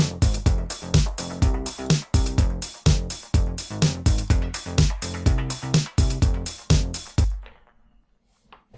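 Rhythmic music with punchy beats, thinned out through a static band-pass filter, with muffled lows and softened highs, ending abruptly in near silence.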